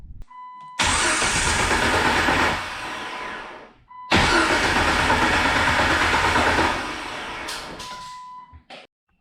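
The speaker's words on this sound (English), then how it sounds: "start it up to release the pressure in the fuel rail" A Jeep engine is cranked twice with the fuel pump relay removed to release fuel rail pressure. Each attempt is a loud, close, sustained starter grind of a few seconds, separated by a short pause, and the engine never catches.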